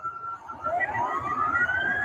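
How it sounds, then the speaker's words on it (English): A siren wails at midnight, its tone rising steadily over about two seconds, loud and fairly close above a low rumbling background. "There's sirens blaring, and I see this huge trail in the sky."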